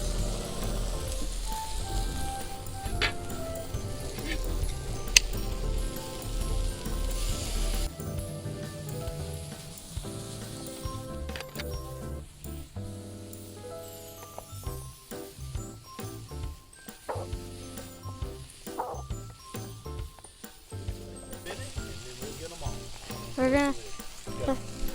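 Smoked sausage sizzles and crackles steadily on a barbecue grill. The frying hiss runs continuously, with occasional small pops and clinks.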